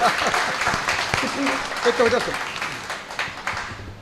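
Audience applause at a Haryanvi stage comedy event: a dense, steady patter of clapping hands that runs the whole time, mixed with voices talking over it.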